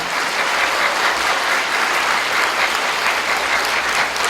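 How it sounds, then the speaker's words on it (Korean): Seminar attendees at a management lecture break into applause, a loud, continuous and uniform patter of many hands clapping close by, with no talk over it. "박수 한번 해볼까요?"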